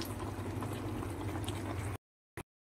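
Chicken pieces and garlic cook together in a spiced masala in a pan, giving a soft, steady bubbling sizzle for about two seconds before it cuts off.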